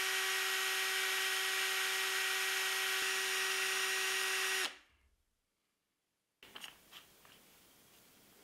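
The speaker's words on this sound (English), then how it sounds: "Now again, I'm going to use the power drill to make the final adjustments." A power drill spins against the plastic of an ASUS gaming mouse, a steady high whine for several seconds before spinning down into silence, followed by a few light plastic clicks and handling sounds, close and alone.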